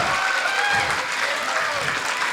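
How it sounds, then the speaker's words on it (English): Audience clapping at a Blacktown City Council community event, a dense steady round of applause from a crowd that holds evenly for the whole stretch, loud and close. "So, Blacktown City Council, as well as the mayor wants you to clap, put your hands together louder"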